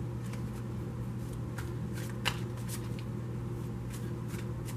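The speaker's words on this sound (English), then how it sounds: "I'm going to start shuffling for the next pull." Tarot cards are shuffled by hand, a steady run of soft riffling and flicking strokes over a low constant hum, close and fairly quiet, with no talking.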